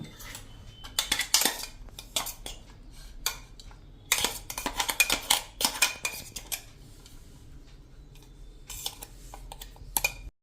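Ground puffed rice mixture is scraped out of a grinder jar into a bowl with a spoon, making repeated close clinks and scrapes in bursts with short pauses between.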